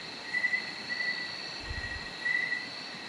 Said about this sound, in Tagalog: boses lang ng mga insekto yung maririnig natin doon